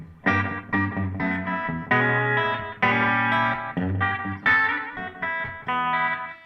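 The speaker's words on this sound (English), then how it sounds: "If you put on a slapback, which I have right here, just one repeat, kind of a tape echoey thing." A live electric guitar played through a slapback tape echo with a single quick repeat and no reverb, giving phrases of twangy chords and bent notes that each carry a short doubled echo, loud and close.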